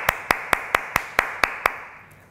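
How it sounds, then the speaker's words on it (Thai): Eight evenly spaced sharp claps ring out alone, one roughly every quarter second, close and crisp, from a single person clapping rather than a full audience, then fading to quiet. "ปรบมือได้ไหม"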